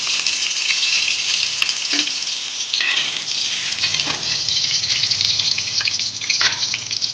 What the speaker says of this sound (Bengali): আমি সাদা তেল দিয়েই আলুগুলো ভাজবো, সাদা তেল দিয়ে।